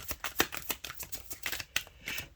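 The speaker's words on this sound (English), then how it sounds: "Shuffling the cards right now." Tarot cards being shuffled by hand, a quick run of papery riffles and flicks in an uneven rhythm, close and fairly quiet, with no speech over it.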